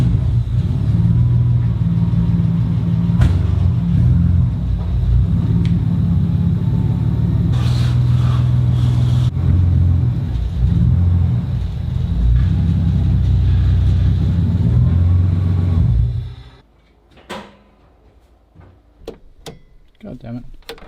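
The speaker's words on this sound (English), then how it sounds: "now I'm gonna have to drive it backwards, put the ramps there, drive it forwards" A Nissan Skyline with an RB30 engine rumbles steadily as it is driven backwards and then forwards onto ramps, then cuts off, leaving a few faint ticks and clicks.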